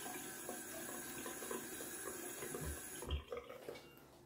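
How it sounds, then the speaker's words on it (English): Cold water runs from a tap and splashes as a face is rinsed after a shave, a steady hiss of flowing water with a few soft splashes and a low thump near the end before it fades. "Some cold water to the face."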